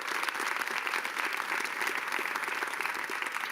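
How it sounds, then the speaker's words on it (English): Wild, dense audience applause welcoming CNN's Don Lemon and a moderator to a public conversation event, a steady roar of many hands clapping throughout with no break. "Wild applause."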